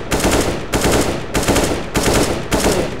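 Automatic rifle fire in Counter-Strike: Global Offensive comes in five short, sharp bursts at an even rhythm, each burst loud and near with brief gaps between, and no talking.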